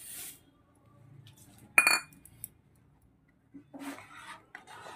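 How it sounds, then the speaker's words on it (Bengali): A spoon stirs vermicelli payesh in a pot, giving a few light metallic clinks and scrapes, one sharper clank in the middle, with quiet gaps between. "সিমাইটা দিয়ে বেশ সুন্দর করে নাড়িয়ে দিতে হবে"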